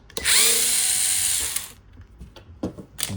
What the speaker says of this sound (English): unscrew these two screws, and of course let me show you. You need Torx T8 screwdriver.